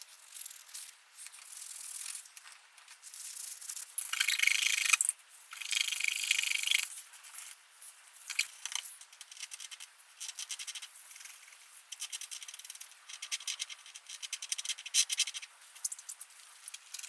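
Rubbing a cloth with alcohol over the clear-coated plastic of a fourth-generation Honda Prelude gas and temperature gauge cluster gives close, dry scratchy scrubbing strokes, bursts of steady rubbing separated by short pauses, with no talk.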